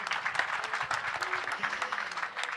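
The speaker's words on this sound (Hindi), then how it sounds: "इनके लिए तालियाँ।" Applause from an audience at the Jaipur Literature Festival, steady clapping with a dense patter of hands for a couple of seconds, moderately loud.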